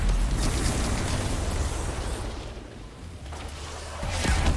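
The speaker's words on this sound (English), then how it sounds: "When you do three crits, you get an explosion." A fiery explosion bursts from a triple critical hit with a javelin in a video game, a loud broad roar that fills the clip, dips briefly near the middle and swells again at the end.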